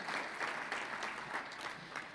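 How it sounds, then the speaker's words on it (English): Guests at an athletics hall of fame dinner applaud, a continuous wash of many hands clapping, fairly quiet and distant with no speech over it. "How about a round of applause for the academic success of our sport programs?"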